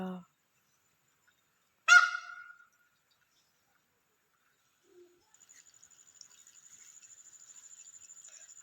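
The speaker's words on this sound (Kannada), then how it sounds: "ಆಹಾ, ನವಿಲು" A single loud, harsh honking peacock call rings out after silence in a garden, followed later by a faint, steady high whine with light ticking.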